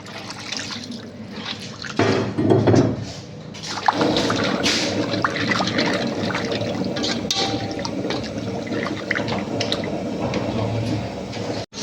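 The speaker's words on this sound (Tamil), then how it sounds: "ஒரு கப் தண்ணியை விட்டுட்டு கிரேவியை நல்லா கொதிக்க விட்டுப்போம்" Water poured from a cup into simmering fish head curry gravy made with king fish for a Kerala-style dish, a steady splashing pour that swells after a couple of seconds and runs on continuously, close and fairly loud.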